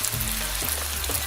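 Onion, tomato and spices fry in oil in a pan, giving a steady close sizzle with a low hum running underneath.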